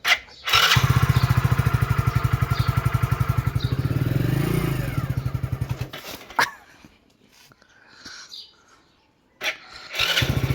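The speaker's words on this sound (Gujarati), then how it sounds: "વાસુ બાઇક લઈ લીધું હવે જઈએ" A motorcycle engine starts and runs with a steady rapid idle chug that fades out after about six seconds, then revs up again near the end, heard close by in traffic.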